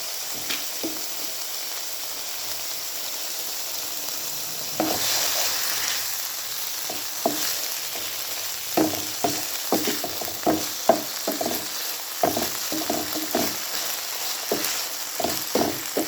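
Sauce of vinegar and chili garlic sauce simmering in a pan, a soft steady sizzle with irregular stirring scrapes and clicks that grow busier in the second half, with no talking.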